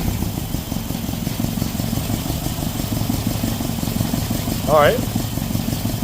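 A Datsun engine with a coil-on-plug setup idles roughly, a steady close pulsing rumble, while a person speaks briefly over it.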